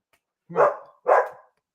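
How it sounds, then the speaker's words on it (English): A dog in a home barks twice, two fairly loud, close barks about half a second apart, with no talk over them. "My damn dog."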